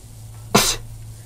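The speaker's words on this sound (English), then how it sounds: "For a second, I thought I was gonna sneeze." A single sharp sneeze bursting out abruptly and close over a low background hum, lasting well under a second.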